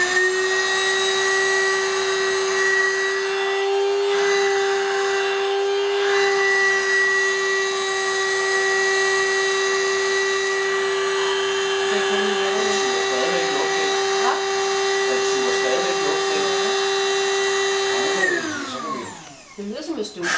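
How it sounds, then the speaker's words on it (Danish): A machine sucks air out with a steady vacuum-cleaner-like whine and hum, running loud and continuous for most of the time before winding down near the end, with people talking quietly underneath. "Det lyder som en støvsuger, ikke?"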